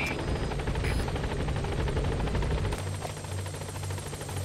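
Helicopter from the video game Metal Gear Solid V: The Phantom Pain arriving at a landing zone, a loud steady rotor drone with rhythmic chopping that shifts in pitch partway through, with no talk.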